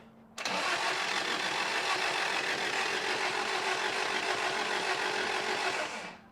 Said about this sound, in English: Now let's crank it over with the radiator cap off.